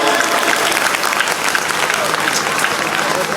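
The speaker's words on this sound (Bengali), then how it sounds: "জোরে হাততালি।" Loud, sustained applause from an audience at a cultural program, dense clapping filling the clip steadily from start to end with a few voices mixed in.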